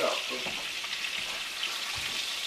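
Mahi fish fillet frying in a pan, giving a steady, close, bright sizzle that holds unbroken throughout.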